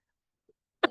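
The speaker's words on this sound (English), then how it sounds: "Pardon my cough." A single short, sharp cough bursts out at the very end after near silence, close to the microphone and loud, preceded only by a tiny faint click.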